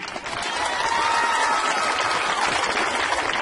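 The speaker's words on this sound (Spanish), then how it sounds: "Yo creo que se merece un aplauso," An audience at a patronal fair song festival show breaks into steady, dense applause that builds within half a second and continues evenly to the end.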